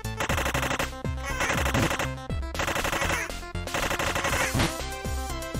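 A bandit's machine gun rattles in rapid repeated bursts in the retro PC game Super Amazing Wagon Adventure, loud and punchy over tonal game music.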